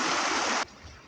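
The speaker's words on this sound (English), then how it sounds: "with a nice little waterfall behind us" Small waterfall on a hillside stream in the Lake District, a close rushing hiss of falling water that cuts off abruptly halfway, leaving faint outdoor ambience.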